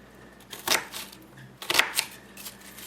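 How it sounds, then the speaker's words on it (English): A knife chops onions for clam chowder in two short, crunchy bursts of rapid cuts about a second apart, close and fairly loud over a quiet background. "There's our onions chopped up that's about how you want them."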